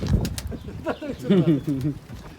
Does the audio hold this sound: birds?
yes